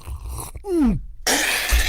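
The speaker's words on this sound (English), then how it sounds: "This is the sound of drinking Heineken Zero." A gulping swallow of Heineken Zero non-alcoholic beer followed by a sharp exhaled gasp, then a breathy hiss; close and fairly loud.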